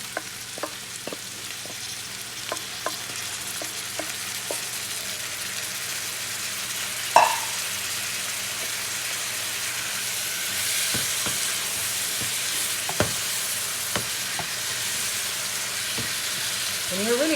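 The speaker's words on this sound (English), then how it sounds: "next you add your shrimp" Shrimp cook in a pot for a seafood crab boil with a constant bubbling hiss, punctuated by scattered light clicks and knocks of utensils and one louder clank partway through.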